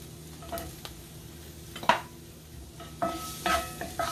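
Vegetables sautéing in a pan for a Mexican-style vegetable bowl, seasoned with salt and black pepper: a low steady sizzle with occasional utensil scrapes and clinks as they are stirred.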